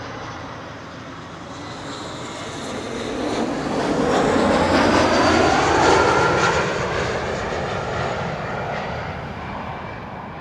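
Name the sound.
KLM Embraer 175 airliner arriving at Schiphol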